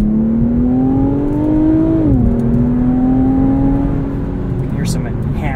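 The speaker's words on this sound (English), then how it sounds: "You can hear some enhanced engine sound there." A 2022 Infiniti Q50 Red Sport 400 engine in sport mode hums and revs steadily, its pitch climbing, dipping briefly, then holding with a synthetic, enhanced, even drone; loud and close throughout.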